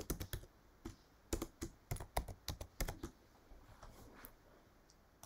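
Quick bursts of typing on a computer keyboard, entering text in Inkscape, clicky keystrokes in short irregular runs with brief pauses, close and fairly quiet.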